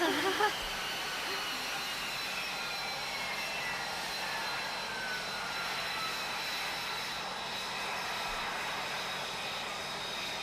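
An F-35B stealth fighter's jet engine roars steadily while the aircraft hovers, a continuous broad, loud rumble and whine held for the whole stretch, with voices faintly over it.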